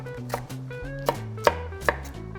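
A knife slices green and red chili peppers diagonally on a cutting board for nabak kimchi, giving a few crisp, close chops spaced unevenly over a soft tonal background.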